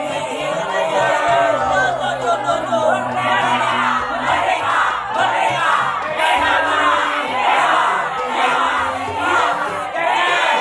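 An audience at the close of a Sundanese comedy show cheers loudly, with shouts, whoops and crowd noise rising and falling over several seconds amid clapping.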